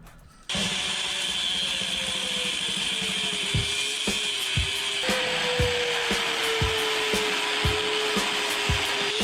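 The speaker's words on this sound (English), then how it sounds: "Now I'm gonna cut the top shock mount off and relocate it up here." A power saw cuts through the metal top shock mount on a QS138 electric mini bike frame, starting abruptly and grinding loud and steady for about nine seconds, with periodic knocks and a shifting whine as the blade bites.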